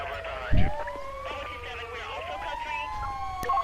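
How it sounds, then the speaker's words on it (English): A video-game ambulance siren wails with rising and falling sweeps, fairly close and prominent, while a voice speaks briefly over it and a short thump sounds early on. "as you can see, the ambulance come through here"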